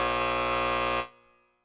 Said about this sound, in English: I needed to give myself the buzzer